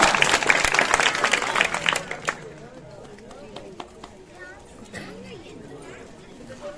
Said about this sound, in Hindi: तालियां बोलो तालियां